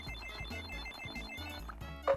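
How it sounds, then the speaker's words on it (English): A phone rings with a repeating electronic tone in short rhythmic bursts over a couple of seconds, fairly quiet, ending with a brief louder tonal blip. "My phone keeps going off."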